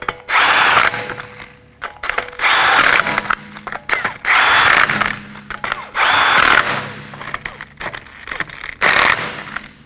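Power tool snugging down five 21mm lug nuts on a 2018-2024 Toyota Camry, heard as four loud, close rattling impact bursts of about a second each, separated by short pauses.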